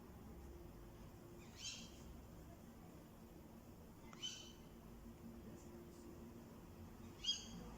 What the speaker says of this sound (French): C'est un oiseau, c'est quoi ça?